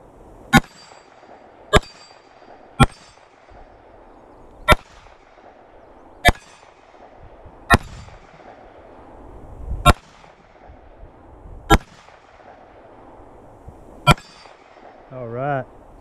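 A Glock 19 Gen 4 pistol is fired at a target, giving ten loud, sharp gunshots close by. The shots come at uneven intervals about one to two seconds apart, with brief quiet gaps between them.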